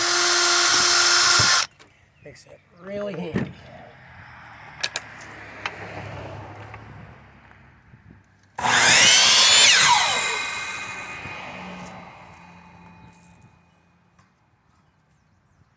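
A cordless drill pre-drilling holes in wood while building a soil screen, two loud whirring bursts near the start and midway, the second winding down slowly, close by, with someone speaking briefly between them.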